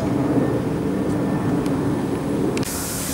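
A broad, steady roar of an airplane fills the whole clip, loud and continuous, like a jet passing overhead.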